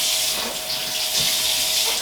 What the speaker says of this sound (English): Again, we use hot water